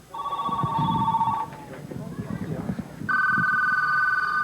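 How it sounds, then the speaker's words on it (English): Telephones ring in long electronic trills at a 1990 telethon, one ringing, a pause, then another starting, while a voice talks underneath in a busy room. "so we want to get every phone ringing."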